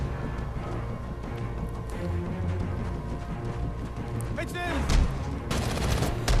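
Gunfire rattles in Arkham Origins, repeated shots and bursts amid dense game noise and music, growing louder and sharper toward the end.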